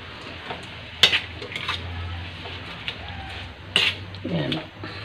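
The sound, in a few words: stirring vegetables with bean sprouts in a pan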